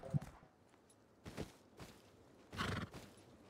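A horse neighs and snorts in several short bursts in the game Rust, ending with a louder, drawn-out whinny over quiet background noise.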